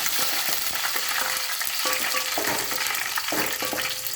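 Mustard seeds, chana dal and urad dal fry in hot oil, giving a steady close sizzle with scattered crackles and occasional scrapes of stirring.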